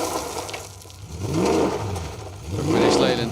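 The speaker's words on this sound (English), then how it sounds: "is the thumping sound of a British V8." A deep British V8 rally car engine, Buick-derived, burbles and revs in two rising surges at a rally stage, loud and close, with a throaty, thumping exhaust note.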